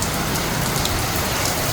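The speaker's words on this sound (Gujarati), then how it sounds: "વરસાદ તો હાવ ધીરી ધીરી આવે" Light rain falls steadily, a dense close patter of drops on surfaces with no breaks and no voices.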